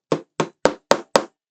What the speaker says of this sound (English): It is a D-shaped hole and it needs to be hammered into place